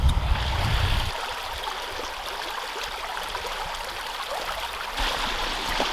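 A creek flowing steadily nearby, a continuous broadband rush and trickle with a louder low rumble in the first second, no talking.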